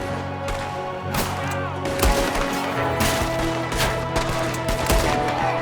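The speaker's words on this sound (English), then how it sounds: "There's another one shooting from the window." Enemy gunfire in Red Dead Redemption 2, a continuous loud volley of overlapping shots and cracks with no pause, some bursts near and others farther off.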